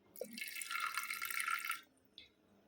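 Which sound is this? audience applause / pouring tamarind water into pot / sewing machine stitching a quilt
pouring tamarind water into pot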